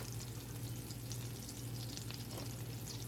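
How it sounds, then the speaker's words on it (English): Flour added to fully melted butter sizzles softly into a roux for smoked Gouda mac and cheese, a continuous low frying hiss with light stirring texture throughout, no voices. "now that our butter is fully melted, you're going to add our flour"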